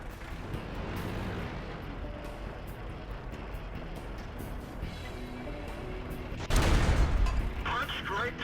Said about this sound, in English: showing some rapid fire Dicamax highlights of the gun